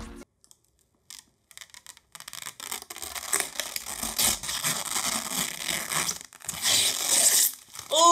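Protective film peeled off a new NZXT PC case: after near-silence, a long, loud crackling tear with crinkling and scratching that builds and keeps going to the end, close up, with no speech.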